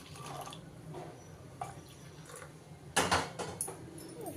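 Water pours and trickles softly into a container in a few short bursts, with light splashing that grows a little louder near the end.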